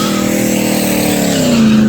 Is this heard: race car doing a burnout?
yes